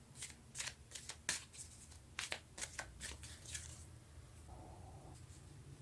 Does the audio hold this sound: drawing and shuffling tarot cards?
yes